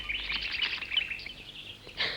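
Cartoon birds in an animated jungle series twitter and chirp in quick, busy bursts, fairly loud and continuous for a couple of seconds, with no talking over them.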